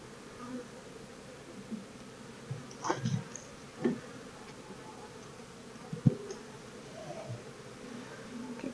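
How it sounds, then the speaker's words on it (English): Steady low insect buzzing from a mass of honeybees in a backyard hive during inspection, close by, with occasional soft knocks and wooden clunks of comb frames over the drone. "got a lot of bees in here, so I'm pretty happy with that"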